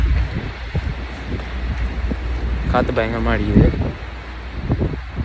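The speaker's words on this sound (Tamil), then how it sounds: "பட் இருந்தாலும் காற்று பயங்கரமாக அடிக்குது" Strong wind blowing on a sunny London street, steady buffeting roar across the microphone with someone talking briefly midway through.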